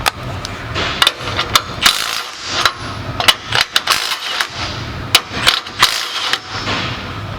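A Milwaukee 3/8-inch Gen 2 mid torque impact wrench runs in repeated short hammering bursts with brief gaps between them, close and loud, with no talk.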